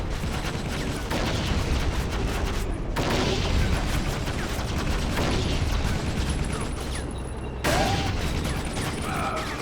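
Dense, continuous rattling gunfire and rumbling blasts in Battlefield Vietnam fill the scene, loud and chaotic, with brief drops in intensity.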